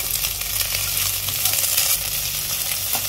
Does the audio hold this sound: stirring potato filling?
yes